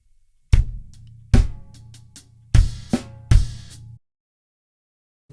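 Drum kit playing the verse ending of a song, with five sharp close hits of kick, snare and crash followed by an open hi-hat that rings briefly before being cut off.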